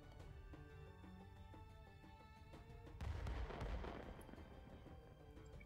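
An explosion in a video game, a deep rumbling boom that bursts out partway through over a quiet, faintly tonal game background, then fades.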